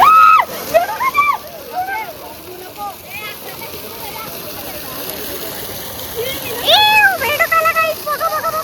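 People jump and splash in a swimming pool, the rushing, slapping water mixed with loud, excited shouting voices throughout.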